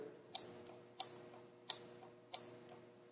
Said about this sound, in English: That's the on-off clicking that I'm talking about.